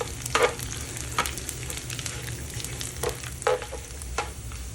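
Dried anchovies (dilis) frying in a pan for a breakfast of fried rice and dried fish, with a steady low sizzle and a few sharp spatula scrapes and stirs scattered through.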